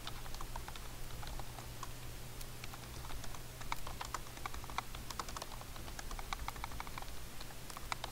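Keys clatter steadily on a computer keyboard as a message is typed, a fast irregular run of light clicks over a faint constant hum, with no one talking.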